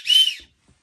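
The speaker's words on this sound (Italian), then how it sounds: "questo è il suono emesso dal fischietto" A single short, shrill whistle blast from the whistle on a Lidl Crivit LED head torch, sharp and close, lasting under half a second before cutting to silence.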